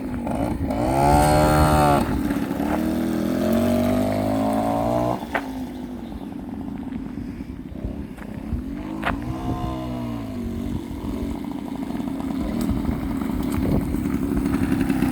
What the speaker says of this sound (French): Tu nous la démarres, Hervé? Ouais. Et ça démarre au quart